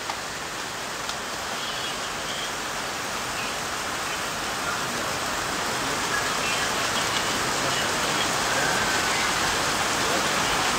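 Rain falls steadily at Kedarnath, a dense, even hiss of drops that stays loud and close and builds slightly over the whole stretch, with no clear voices standing out.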